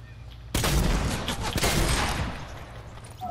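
A sudden burst of rapid gunfire in Fortnite, a dense crackling volley with a second burst in the middle, fading out toward the end; no speech.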